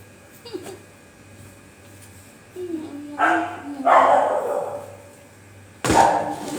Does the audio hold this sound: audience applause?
no